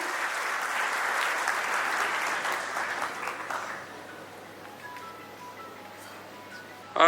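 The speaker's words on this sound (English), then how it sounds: "a huge applause for the convener of this meet, everyone." An audience applauds the convener at the Nashik Vision X 2025 opening, a dense, steady wash of many hands clapping that thins and softens partway through before a brief loud burst at the very end.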